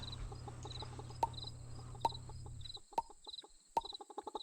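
Chickens in a hen house in the farming game Pumpkin Days, with soft repeated clucks and chirpy game tones over a low hum, plus a few sharp periodic ticks; no talking.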